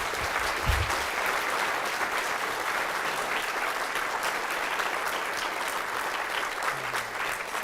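An audience claps steadily and warmly to welcome the speaker Robert Whitaker at a lecture on psychiatric drugs, with sustained dense applause from start to finish and no voices.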